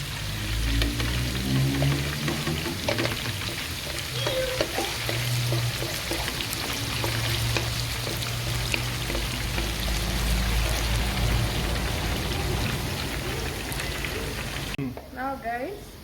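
Kebab pieces fry in a pot of hot oil alongside pakora, a dense, continuous bubbling sizzle heard close up under someone talking, with occasional clatter as pieces are turned and lifted out.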